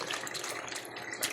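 Running water gushes steadily from a tap while soaked mushrooms are rinsed, a continuous broadband hiss with no voices.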